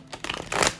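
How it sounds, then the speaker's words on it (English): A deck of tarot cards is riffled in one quick shuffle, a brief burst of crisp flapping up close. "One shuffle."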